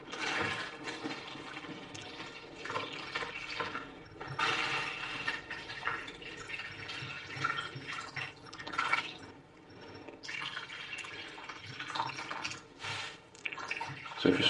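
Water poured from a jug into a container, a continuous splashing gush that swells and fades with gurgles and drips, close and moderately loud.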